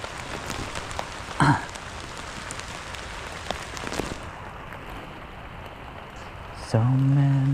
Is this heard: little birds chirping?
no